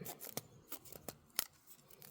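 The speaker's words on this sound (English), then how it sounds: "These scissors are awful." Scissors snip through twine several times in quick, crisp clicks, close up and quiet, with soft rustling between the cuts.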